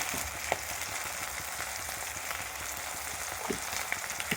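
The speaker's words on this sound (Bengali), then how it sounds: "ভালো করে নেড়ে নেবো।" Ground spices such as turmeric sizzle and crackle in hot oil in a pan while being stirred for a pomfret curry with mustard and poppy seed paste, a steady frying hiss broken by soft scraping stirs.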